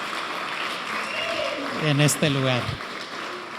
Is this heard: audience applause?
yes